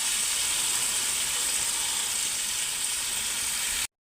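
Spice paste for Bengali fish kalia fries in a pan while being stirred, making an even, close, hissing sizzle that runs steadily and then cuts off abruptly.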